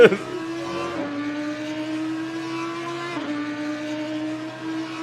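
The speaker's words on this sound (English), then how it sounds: "The sound, it's just sound of these cars, they're unbelievable." Race car engines in the Assetto Corsa Competizione sim racing game at the Nürburgring, a steady loud drone with a gearshift dip and engine note change partway through, with faint talk beneath.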